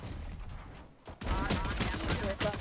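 Rapid bursts of gunfire from the video game Valorant crackle loudly after a brief lull, dense and continuous with a player's voice faintly underneath.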